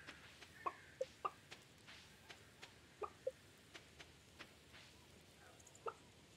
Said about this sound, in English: Where's my fourth chicken?